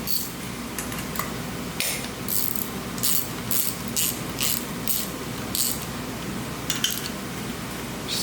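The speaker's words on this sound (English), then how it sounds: "So now I'm just going to tighten everything up equally" A hand ratchet tightens the mounting bolts on a throttle body fuel injection unit on a Jeep FSJ Cherokee Chief rock crawler, giving repeated short bursts of close metallic clicking with brief pauses between them.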